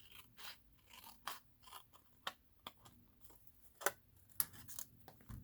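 Scissors snip through paper for a junk journal page, a series of short, quiet crisp cuts spaced irregularly at close range.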